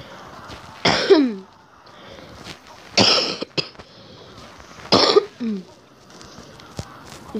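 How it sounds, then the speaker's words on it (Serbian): Three loud, close coughing fits, each a burst of harsh coughs with a rough throaty tail, spaced about two seconds apart, from someone who is ill while playing Clash Royale, with faint quieter sounds between them. "Izvinjam se zbog kašljenja"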